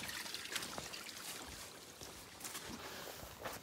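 A stream runs at a river crossing along the Pacific Crest Trail, giving a steady, soft, distant rush of flowing water with no talking.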